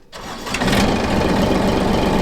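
The small Yanmar diesel engine of a Komatsu PC27 mini excavator cranks and catches almost immediately in cold weather around 25 degrees, then settles into a loud, rough, steady idle close by.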